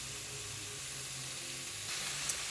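Green beans, baby squash and onions cooking in a pan, giving off a soft, steady sizzle with a faint hiss that brightens slightly near the end.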